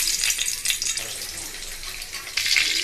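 Oil and half a spoon of butter sizzle in a pan on the stove for a Telugu-style paneer curry, a steady broad hiss that swells briefly near the end, with no talking.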